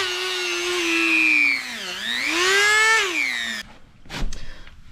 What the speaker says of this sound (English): I'm going to touch this surface up just a little bit with the Dremel.